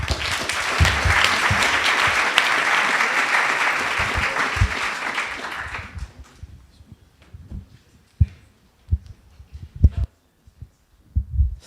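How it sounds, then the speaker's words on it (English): An audience at a startup pitch event bursts into steady applause for about six seconds, then it stops abruptly, leaving scattered thumps and handling noises. "Applause!"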